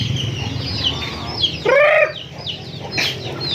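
Chickens, including Thai Dragon and Asil gamefowl, cluck and call close by, with a short rising crow-like squawk in the middle, over a low steady background hum.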